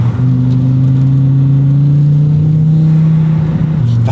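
A five-cylinder car engine pulls hard under steady acceleration, a loud, continuous droning growl whose pitch rises slowly before dropping near the end, with no voices over it.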